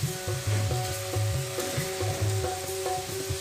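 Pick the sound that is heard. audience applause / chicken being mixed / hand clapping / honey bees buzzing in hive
chicken being mixed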